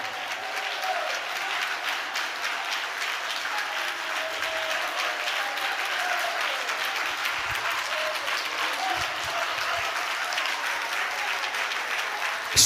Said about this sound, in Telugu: గట్టిగా చప్పట్లు కొడుతూ దేవుని స్తుతించండి